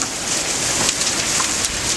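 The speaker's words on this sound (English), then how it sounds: "yeah, that's a storm." Heavy rain pours steadily during a severe thunderstorm with hail near Toronto, a dense continuous hiss and patter close by with no distinct thunderclap, no voices present.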